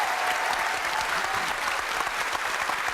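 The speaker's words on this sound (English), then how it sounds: "will you give the fans a round of applause" Studio audience applauding the fans at the end of a Most Haunted Live broadcast, a brief, close burst of dense, even clapping from a crowd.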